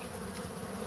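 Bees buzzing close by in a steady, dense drone that fills the short moment, with no talking.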